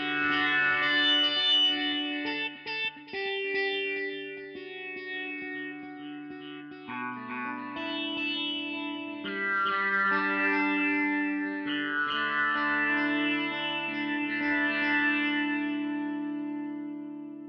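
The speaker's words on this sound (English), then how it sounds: "One of my favorite tones on this is a sitar sound." James Tyler Variax modeling electric guitar on a sitar model gives a buzzy, sitar-like twang playing a slow melodic line, notes ringing out through chorus and echo effects, with no voices.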